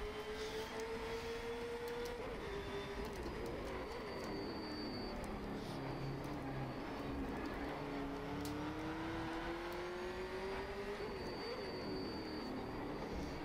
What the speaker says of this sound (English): There goes the drone.